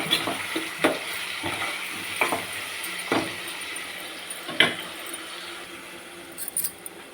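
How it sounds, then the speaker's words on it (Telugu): Tomatoes cooking in oil for a stuffed brinjal masala give a steady sizzle, with a few sharp scrapes and clinks of a spoon against the pan at intervals. "ఇప్పుడు టమాటా, ఇది మంచిగా ఉడకాలండి"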